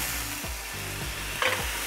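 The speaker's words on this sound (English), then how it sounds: "I'm just adding it to the hot pan to cook off just the alcohol and the bourbon before I add it to my peaches." Bourbon poured into a hot cast iron pan sizzles and spits steadily for a couple of seconds, close and fairly loud, with a brief clatter near the end and no voices.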